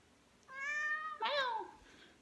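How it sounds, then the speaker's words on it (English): Two clear cat meows close by, the first drawn out and steady, the second rising then falling, over a quiet background. "Meow, it's my catty."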